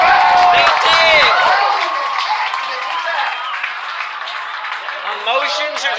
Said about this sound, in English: One moment fans are cheering.